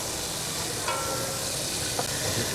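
Sliced button mushrooms and diced wild boar sauté in a pan, a steady hissing sizzle with a couple of faint stirring knocks, fairly even throughout.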